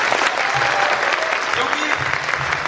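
A seminar audience claps in a dense, steady burst of applause that fills the room, with a voice faintly heard speaking beneath it.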